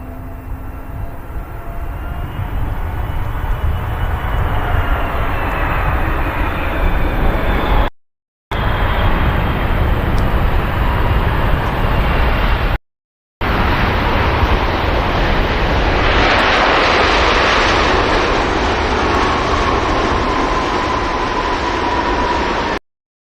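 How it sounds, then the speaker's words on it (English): A Saudia airliner in its 80 years special livery touches down at Manchester Airport, a loud, broad jet roar rolling on steadily with two brief dropouts and a faint rising whine near the end. "here's the Saudi in the 80 years special. This is going to be our last touchdown of the live show."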